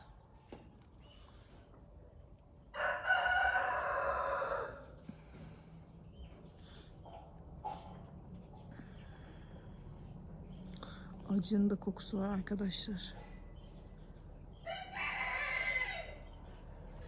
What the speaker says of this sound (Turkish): Horozların da sesi geliyor.